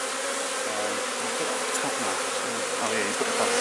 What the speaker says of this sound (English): all the flying bees will come out and they'll go back to here